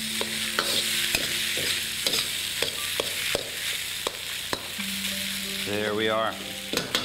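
Rice sizzling in a hot pan as it is stirred and dried out over rising heat, a continuous bright crackle with repeated scraping strokes, close up, plus a brief spoken comment.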